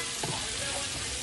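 Spice paste cooks down in a hot pan for pompano fish, giving a dense, constant frying hiss that fills the short moment with no break.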